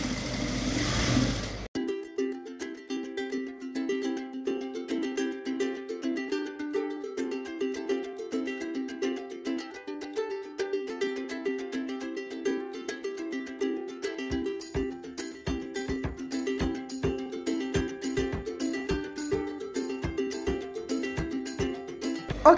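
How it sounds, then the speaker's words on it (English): Close up, a sewing machine stitches a layered dress in a steady, rapid mechanical whir with an even stitching pulse that grows sharper and more rhythmic toward the end. "I pull slightly as I sew, and I'm sewing just right on the bottom."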